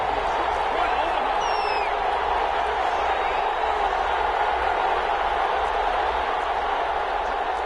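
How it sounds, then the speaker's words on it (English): Stadium crowd noise in a football video game at a goal-line play, a continuous dense roar of many voices with faint whistles and shouts mixed in, steady and loud throughout. "The crowd's not doing that O-line any favors."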